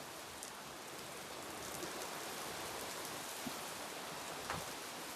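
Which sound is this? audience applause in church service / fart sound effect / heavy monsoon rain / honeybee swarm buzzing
heavy monsoon rain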